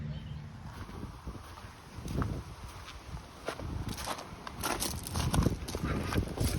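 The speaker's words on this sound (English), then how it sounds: "Hopefully this wind isn't too distracting for you" Gusty wind buffets the microphone in a winter cottage garden, a rumbling, uneven rush that swells and fades, with rustling and faint thuds mixed in.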